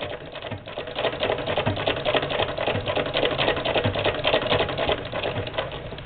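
An 1891 White VS IIb sewing machine stitches through two layers of knitting with a fast, continuous mechanical clatter, close and steady throughout.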